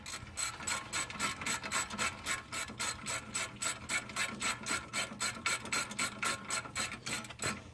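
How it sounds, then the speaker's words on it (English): A small ratchet turns brake bolts during a brake and rotor change, a steady run of close, even clicking strokes repeating fast for several seconds, with no voices. "Once they're loose, then I go back to the small ratchet"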